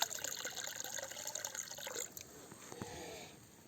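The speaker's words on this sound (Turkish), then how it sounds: "şimdilik Suyu biraz boşaltalım." Water spills and trickles out of a gold pan at a creek, a soft splashing pour that tapers to faint dribbles, fairly quiet and close, with no talking.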